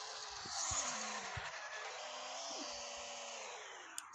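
A game car, a Range Rover, driving fast and skidding, a steady broadband rush of engine and tyre noise with a couple of faint tonal squeals, quiet overall and with no speech.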